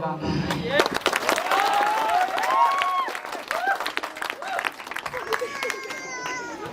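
Audience applause at a school annual function for a computer education institute, with clapping at moderate level beneath children's excited voices and shouts over nearly seven seconds.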